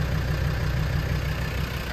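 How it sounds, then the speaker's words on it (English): A 1999 Land Rover Defender 90 50th Anniversary Edition idles at the tailpipe with a steady, close, low rumble that holds even throughout, with no talking. "you can hear the engine on the front"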